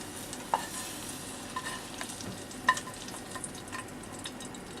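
Browned onions being stirred in a frying pan, a soft steady sizzle with occasional faint clicks and scrapes of the utensil, quiet and close.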